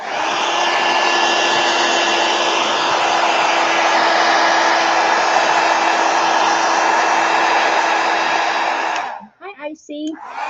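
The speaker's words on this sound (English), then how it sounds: "I'm gonna hit it with a heat gun real quick" A heat gun blows over a fresh painting of easy gnomes, a loud steady airy roar for about nine seconds before it cuts off and brief handling noises follow.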